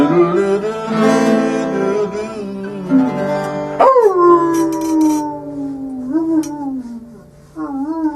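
Several dogs howl together, long rising and falling wavering cries layered over each other, close and loud, with a few yips and a brief break near the end.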